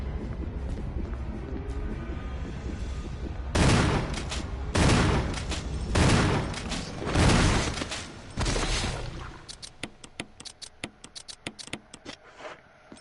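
Gunfire in Resident Evil 1, several loud bursts of shots in quick succession after a quiet stretch, followed by a run of sharp, rapid clicks and ticks.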